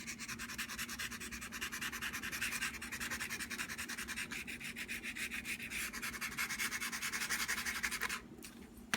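Crumpled aluminum foil with a little WD-40 scrubs a car engine's cylinder head in a fast, steady back-and-forth rhythm, close and continuous for about eight seconds before it eases off.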